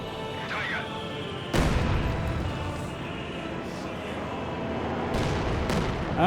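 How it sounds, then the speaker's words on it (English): A 120mm mortar timed barrage lands in Company of Heroes 2, with heavy booming impacts, one sharp loud crash followed by further blasts over rumbling battle noise. "There's a 120mm mortar timed barrage."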